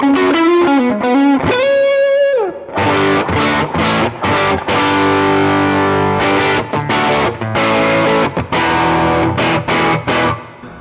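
Electric guitar played through channel 2 of a Cornerstone Gladio double preamp pedal, loud and distorted, with quick bends and a sliding lead run giving way to chunky, rhythmic chords with short gaps, no talking.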